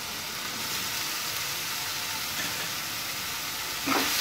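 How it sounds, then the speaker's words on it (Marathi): Corn, paneer and spices being stirred in a pan for a paneer corn rava pizza topping, giving a steady soft sizzle and scraping hiss throughout, with a brief louder scrape near the end. "हे सगळं चांगलं मिक्स करून घ्यायचं।"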